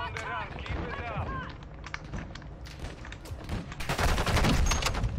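Gunfire in Call of Duty: Modern Warfare II Invasion mode, rapid bursts and single shots layered with battle chatter and game voices, loudest in a dense volley near the end.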